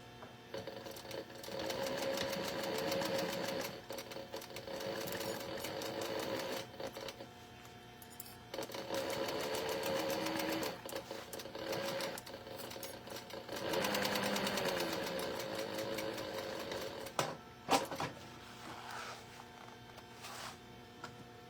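Sewing machine stitching down the side seam of a fabric crossbody bag. A close, steady, rapid mechanical whir comes in long stretches separated by brief pauses, with a few clicks and handling knocks near the end.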